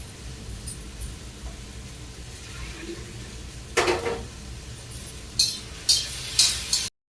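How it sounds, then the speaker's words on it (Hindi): Dal tadka sizzling in a kitchen while vegetables cook, with quiet stirring and clinks, a sharp hissing burst midway as the tempering hits, then several short scraping and clattering bursts near the end; no talking. "तो इधर हम दाल का तड़का भी लगा दिए"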